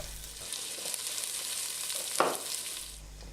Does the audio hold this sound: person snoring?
no